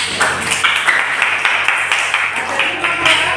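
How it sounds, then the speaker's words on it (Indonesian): Classroom applause at a vocational high school, a steady patter of claps from a group of students, moderately loud and continuous, with faint murmuring mixed in. "Dan tepuk tangan buat."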